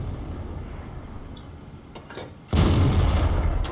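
A Tiger I tank cannon fires in a video game, a sudden loud boom that cuts in sharply after a stretch of low rumbling engine noise, then sustains as a heavy roar to the end.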